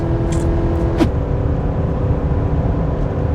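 A Chevy 1500 5.3-liter V8 pickup engine drones steadily under load while towing uphill at about 4,200 RPM, a constant low rumble heard from inside the cab with faint clicks.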